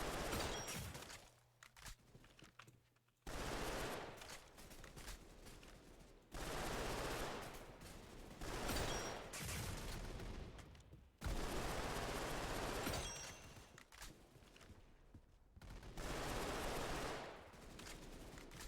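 Tommy gun fire in a video game, loud sustained bursts of automatic shots that start and stop in several long volleys with short gaps between them.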